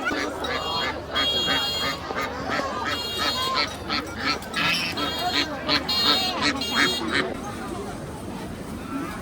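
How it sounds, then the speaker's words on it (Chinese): Ducks at a busy township market near Chengdu, China, honking and quacking in loud, repeated bursts close by, over a constant crowd babble and people talking. "鸭子。"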